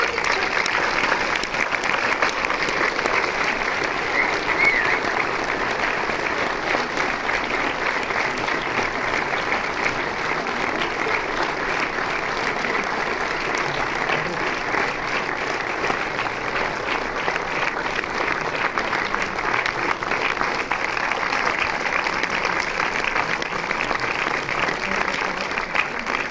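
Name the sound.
audience applause welcoming Michel Gondry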